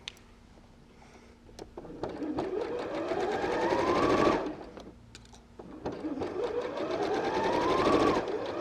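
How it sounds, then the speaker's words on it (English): A sewing machine stitches along the straight edge of a triangle pouch, two steady runs that build in speed and pitch, each stopping briefly, close and clear with no talking. "you carry on sewing across this part of the pouch, this straight edge"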